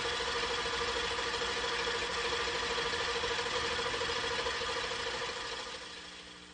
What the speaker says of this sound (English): This then is the actual injection while the engine is running.